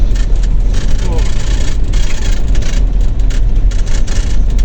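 A car driving on the road toward the village of Voloshivka, a loud, close, steady engine and road rumble inside the cabin, continuous throughout.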